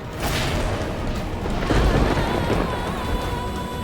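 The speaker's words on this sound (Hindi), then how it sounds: "ये मौसम, ये आंधी तूफान" A thunderstorm roars with steady wind and heavy rain, a broad continuous wash of noise that swells with a low rumble of thunder near the middle.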